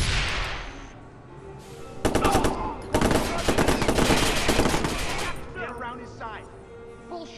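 Gunfire from the video game Watch Dogs on Xbox One: bursts of rapid shots in two dense loud stretches, with a voice talking over and between them.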